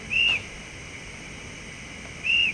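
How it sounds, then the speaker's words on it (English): A Casula Hobbies Z12 model train's guard's whistle sound effect gives two short, shrill blasts, one at the start and one near the end, over a steady low hum. "F19 guards whistle."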